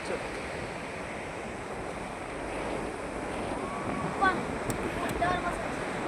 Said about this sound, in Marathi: समुद्र खवळलेला आहे